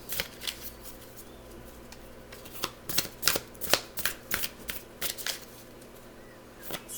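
Tarot cards being shuffled by hand, a series of crisp riffling and slapping bursts with brief pauses between, close and fairly clear against a quiet room.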